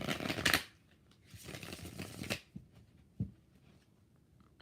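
A deck of tarot cards gets shuffled in two loud, riffling bursts, each about a second long, followed by a few softer taps and card handling sounds close to the microphone.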